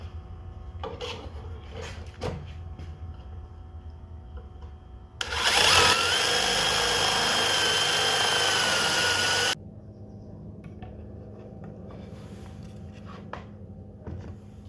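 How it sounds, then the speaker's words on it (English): A power drill whines steadily for a few seconds, loud and close, drilling holes in a board through a jig, between quieter stretches of knocks and handling sounds. "we're going to use this same jig to drill holes in the connecting board"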